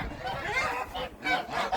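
Geese being herded along honk in a few fairly faint, nasal calls that rise and fall, alone without speech.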